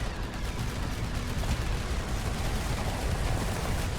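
Cannons in a tower defense roguelite video game fire in a dense, continuous rumble of overlapping booms, loud and unbroken, with no talk on top.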